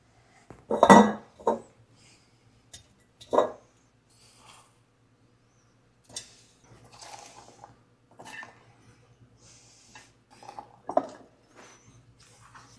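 Eggs and jalapenos being packed into a big glass mason jar, heard as scattered clinks and knocks of glass and utensils with quiet pauses between them.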